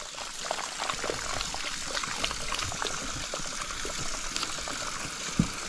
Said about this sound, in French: Vous allez le rincer abondamment et on rince dans le sens du cheveu.